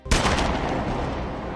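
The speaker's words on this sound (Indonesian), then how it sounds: "Tak berselang lama pistol itu pun ditembakkan." A pistol fired in an action film: one sharp, loud gunshot near the start, followed by a long, reverberant decay that fills the rest of the moment.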